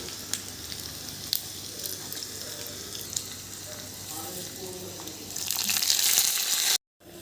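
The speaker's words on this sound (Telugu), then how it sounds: "పప్పుకు తాలింపు వేస్తున్నా" Hot tempering oil sizzles steadily for gongura dal, a loud frying hiss that swells sharply near the end as the seasoning hits, then cuts off abruptly with a brief silence; no voices.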